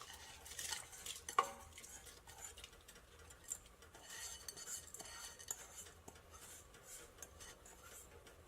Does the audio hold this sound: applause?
no